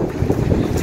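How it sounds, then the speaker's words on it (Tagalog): Strong wind buffeting a microphone outdoors at a bus stop in Canada, a steady low roaring rumble with gusty swells throughout, close and fairly loud, with no voices. "Napakahangin."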